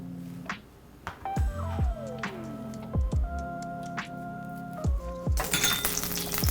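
Butter hits a hot pan for blackened salmon and breaks into a loud, bright sizzle near the end, after a run of close metallic clinks, knocks and a sliding whistle-like tone from pans and utensils.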